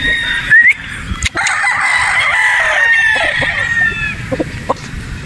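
Boston Roundhead broodstag roosters crowing close and loud, several overlapping drawn-out crows with some clucking between, heard in a farm pen without talk.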